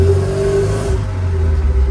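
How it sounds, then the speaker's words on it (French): A restored MGB GT classic sports car engine revving loudly and close by, a sustained mid-pitched hum with a clear tone that swells briefly before settling. "Accélère un peu."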